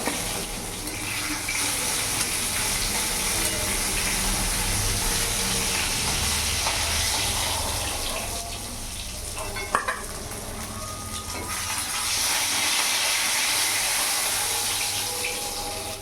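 Potatoes fry in hot oil in a pan for a silver carp fish curry, giving a continuous dense sizzle and hiss with occasional stirring clatter throughout.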